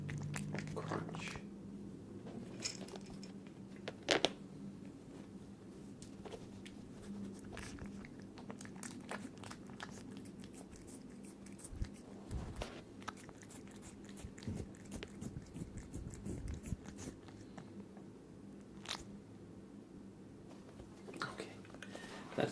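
A dog crunching and chewing a treat close by, soft irregular bites and crunches over a quiet background, with whispered talk now and then.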